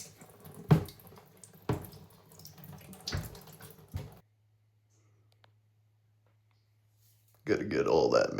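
Homemade cider trickles into a bottle through a bottle wand, with a few clicks and knocks of glass and plastic, a quiet humming stretch, then a louder burst of pouring and splashing at the end.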